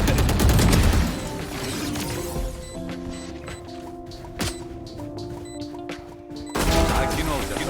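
Rapid video-game gunfire as an enemy shoots while running, a loud burst of shots at the start, then sparser bursts under beeping game sounds, and another loud burst at the end, with players talking.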